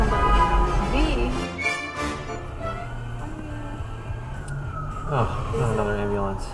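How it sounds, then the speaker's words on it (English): Amid city traffic, an ambulance siren wails and swoops at moderate distance. Road noise and engine sound run underneath, and a voice speaks briefly over it. "Oh, not another ambulance."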